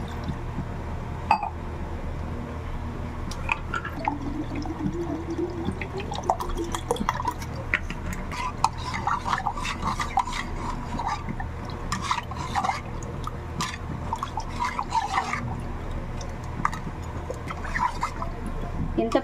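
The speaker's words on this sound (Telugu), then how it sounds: "ఇందులో సరిపడా వాటర్ వేసుకుందాం" Water is poured into mashed toor dal mixed with cumin and garlic paste, giving irregular splashes, drips and faint clinks of a vessel over a steady low background.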